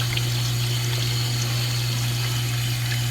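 Steady running water from a tap, a continuous close hiss with a low hum underneath, no voices.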